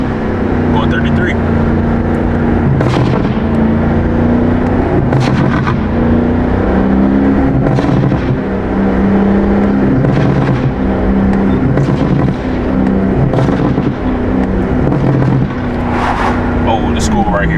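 BMW M4 driving at low speed with a loud, close engine drone and a few sharp exhaust pops scattered through, while people talk over it.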